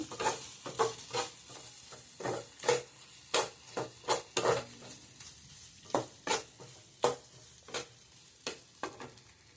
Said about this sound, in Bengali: ভাজা আছে, মশলার সাথে কষিয়ে নেবো।